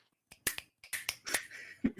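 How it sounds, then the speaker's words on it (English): Several quick, sharp finger snaps in an irregular rhythm, close and crisp against near silence, no talking. "All you hear is little snapping in the corner."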